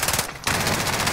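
Rapid automatic gunfire in the Call of Duty Warzone video game, a dense, loud stream of shots broken by a brief gap, then continuing without talk.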